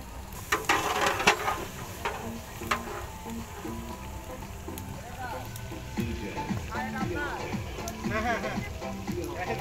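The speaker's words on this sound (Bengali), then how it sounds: "মাংস কিছুক্ষণ নাড়াচাড়া করা হবে।" Chicken curry meat being stirred in a pan over an outdoor fire at a picnic, with steady frying sizzle and scraping stirs under nearby voices talking.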